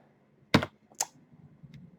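Keystrokes on a computer keyboard while entering a spreadsheet formula: two distinct taps, one fairly loud and the next lighter, then a faint third click, set apart by quiet pauses with no talking.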